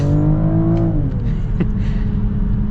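A 2025 BMW X5 plug-in hybrid SUV accelerates hard, its engine note climbing in pitch for about a second before settling into a steady, loud drone with road rumble inside the cabin.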